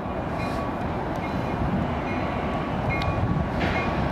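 A freight train, the tail of a manifest, rolls past in a steady, continuous rumble with faint metallic squeals and no talk.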